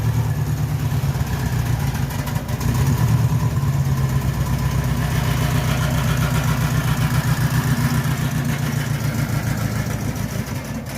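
A car engine runs steadily through a test drive after maintenance, giving a continuous close mid-low throb with a regular pulsing rhythm, loud and alone with no talking.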